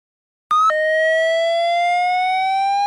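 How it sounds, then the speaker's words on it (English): A school fire alarm starts abruptly and sounds as a loud, steady electronic tone with bright harmonics that holds unbroken for over two seconds, close and alone with no talk. "Hear the alarm."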